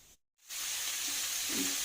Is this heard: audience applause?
no